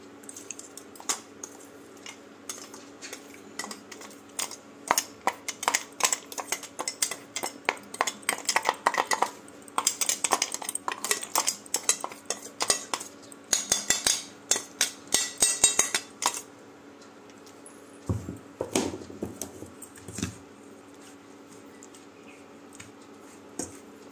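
Crushed chocolate Oreo biscuits are mixed with sugar in a bowl, making repeated scraping and tapping clinks of a utensil against the bowl in uneven bursts, ending with a few softer thuds.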